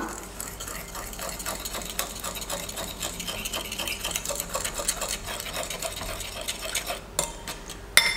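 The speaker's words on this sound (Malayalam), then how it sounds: "ഇത് ഒരു ഫോർക്ക് വെച്ച് നന്നായി ഒന്ന് വിസ്ക് ചെയ്ത് കൊടുക്കണം" A fork whisking condensed milk in a bowl, a steady fast metallic ticking and scraping repeated evenly throughout, close and fairly loud, with a clatter near the end.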